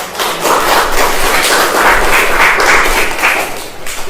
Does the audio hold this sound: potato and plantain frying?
no